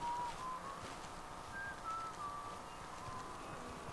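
Soft whistling of a simple melody by a character in Fallout 4, faint over a murky low background hum, with several short sustained notes.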